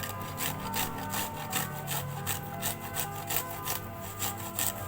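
Garlic being grated by hand in a rapid, rhythmic rasping scrape, each back-and-forth stroke clearly separate, close by and fairly quiet, with no talking.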